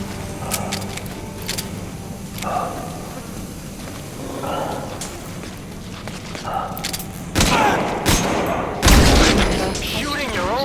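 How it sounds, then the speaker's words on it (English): Gunfire in the stealth-action game Metal Gear Solid V: scattered shots and dull impacts over a busy in-game soundscape, then a louder burst of several heavy blasts near the end. "Shooting your own men!"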